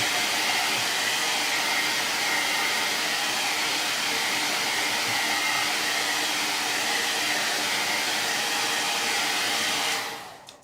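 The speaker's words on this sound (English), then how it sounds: "now I'm going to give this one shot with the blow dryer because that is super tacky still" A blow dryer blasts steadily at close range, drying tacky stencil paint on a wooden craft piece, a loud continuous airy roar that cuts off abruptly near the end.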